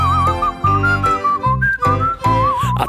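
Someone whistles a bright, wavering tune in short phrases, with brief pauses between the notes, close and clear.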